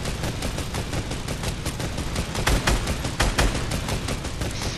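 Sustained automatic gunfire sprays in rapid, dense bursts from a video game firefight after boarding a plane, loud and continuous throughout with a few heavier thumps midway.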